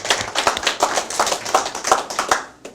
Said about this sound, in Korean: 우리가 박수를 한번 치고 가면 어떨까 싶습니다